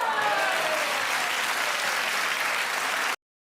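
A dense burst of audience clapping, steady and fairly loud for about three seconds before cutting off abruptly; a faint tonal trace sits beneath it at the start.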